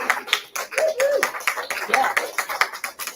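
A small audience claps for a Kirtan group, with quick, uneven hand claps close by and a voice speaking over them.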